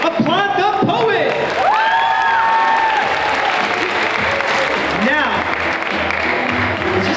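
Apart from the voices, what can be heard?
audience applauding a poet at a slam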